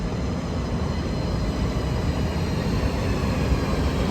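Train locomotive in Zurich rolling past, a dense, loud, continuous rumble and roar of wheels on rails, steady throughout with no talk.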